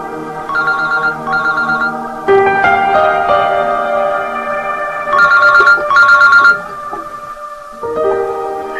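A telephone ringtone plays a repeating electronic melody in loud, steady bursts with brief pauses, sounding alone in an indoor scene from a Pakistani Urdu drama.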